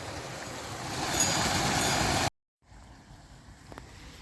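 Water rushes into a farm irrigation channel through an opened outlet, a steady loud broadband flow that swells, cuts out abruptly for a moment, then resumes more quietly.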